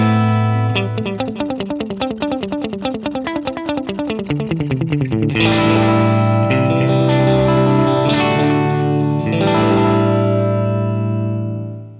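Guitar played through a Boss DD-20 delay with the tone control turned down, a rapid repeating picked pattern followed by sustained chords trailing into darkened echoes that fade out at the end.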